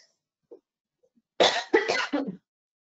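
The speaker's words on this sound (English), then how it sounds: "It's just a cough. just a little cough and cold" A short throat sound, then three quick harsh coughs in a row, close and fairly loud.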